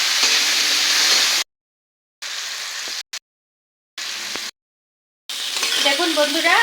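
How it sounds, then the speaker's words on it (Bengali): Potatoes fry in a pan with salt and turmeric while being stirred, giving a loud close sizzle in bursts split by stretches of silence. "এখন আমি নেড়ে চেড়ে আলুগুলো ভেজে নেব"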